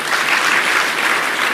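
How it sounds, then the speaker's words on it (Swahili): An audience gives sustained, dense applause for Cabinet colleagues introduced at a Kenyan government event, loud and close, with no speech over it. "Mudavadi, the Prime Cabinet Secretary, Pigiani Makofi."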